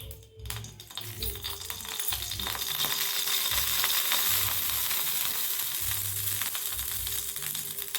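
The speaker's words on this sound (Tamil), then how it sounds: "கடை சட்டி சூடாகிட்டு நம்ம இந்த கருவேப்பிலையை நல்லா வறுத்துருக்கோம்" Curry leaves frying in a hot kadai with a little leftover oil, giving a steady crackling sizzle throughout, with rhythmic low scraping and stirring knocks from the pan.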